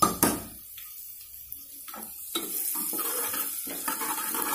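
Cumin seeds and garlic paste are stirred in a hot pan, giving a few light scrapes and clinks of the spoon over a faint sizzle, close and brief with no speech.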